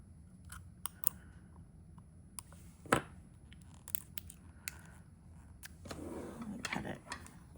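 Scissors snip at the pull tab of an ink cartridge or bottle, heard as several sparse, sharp clicks and a louder cut close by, followed by a faint rustling handling noise.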